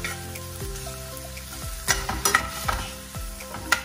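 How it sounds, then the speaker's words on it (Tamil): Green chillies and onion sautéing in oil over high flame, with a continuous sizzle broken by repeated scraping and knocking of a spoon stirring the pan, close and moderately quiet. "சேர்த்துட்டு நல்லா வந்து வதக்கி விட்டுக்க போகிறோம்."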